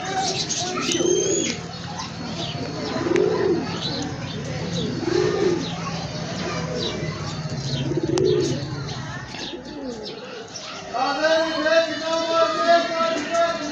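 A Kamagar pigeon coos repeatedly in a low, rhythmic pattern, four soft calls at steady intervals, with someone talking over it and chirping birds later.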